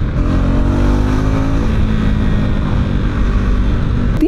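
A single-cylinder 2025 Husqvarna Vitpilen 401 motorcycle engine accelerates with a loud, steady, close-up drone whose pitch climbs gradually, continuous throughout with no speech.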